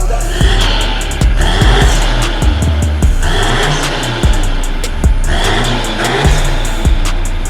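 A SEAT Ibiza 2.0 TDI FR diesel roars loudly through its exhaust, revving up in several repeated bursts that swell and fall back over a steady close-up engine drone.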